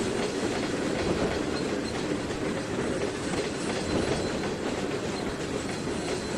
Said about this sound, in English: Here comes in now our BNSF grain hoppers.